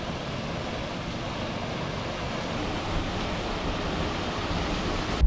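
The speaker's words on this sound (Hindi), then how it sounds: "वाटरफॉल देखते हैं जी" A waterfall near the Poonch River produces a steady, broad rushing roar of falling water that stays constant and fairly loud throughout, with no voices.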